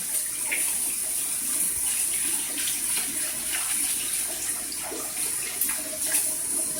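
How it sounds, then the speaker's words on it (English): Water runs steadily from a tap as harvested garden seeds are rinsed clean. The stream is close and continuous, with a constant hiss and faint splashing throughout. "I'm just going to give them a good rinse."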